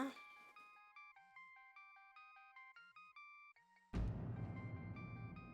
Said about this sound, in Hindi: अरे माँ, देखिए किसका फोन है।